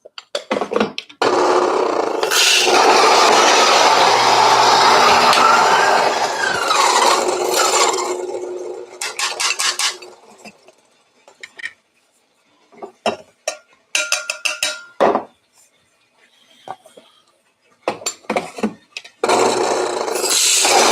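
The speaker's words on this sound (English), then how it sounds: "So we're just grinding all the coffees." A compact coffee grinder grinds beans for cupping in a loud, close whirring burst lasting several seconds, followed by intermittent short grinding pulses and rattles, then another burst at the end.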